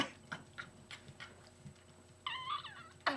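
A baby's small hiccups come as soft, scattered short bursts over a quiet room, with a brief high squeaky vocal sound near the end.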